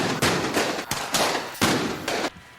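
Gunfire effects in a staged radio drama, several sharp bursts of shots in quick succession, loud and close, with brief gaps between volleys and no talk.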